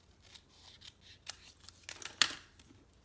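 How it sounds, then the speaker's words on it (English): Scissors cutting a green card base in half, a handful of short snips and crisp paper sounds at close range, ending in one sharp louder cut, with no talking. "And then I'm just going to cut my green base in half."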